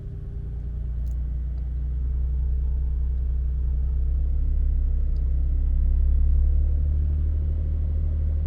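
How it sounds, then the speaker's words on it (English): A Jaguar XJ40 engine held at around 1500 RPM during a rapid warm-up, a steady, low, continuous rumble that stays even and close with no talking. "So I'm just going to take the car up to around 1500 RPM."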